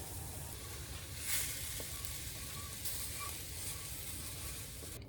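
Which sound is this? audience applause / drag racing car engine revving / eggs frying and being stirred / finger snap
eggs frying and being stirred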